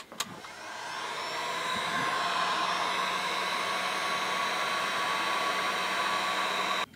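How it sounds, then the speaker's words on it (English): A heat gun set to its second setting blows hot air to melt heat shrink while wiring an RV's LED lighting, a steady close whooshing drone that starts with a click and holds evenly for several seconds. "I can pull out my heat gun. I'm going to put it on 2, and I'm going to melt this."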